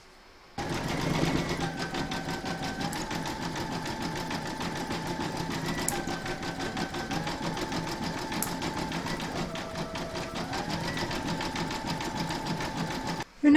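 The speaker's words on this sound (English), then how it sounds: "stitch round number 7, and that's going to zigzag around the edge here" Embroidery machine zigzag-stitching the edge of a llama applique, a steady rapid mechanical chatter with shifting pitch that runs continuously for most of the span after a quiet start.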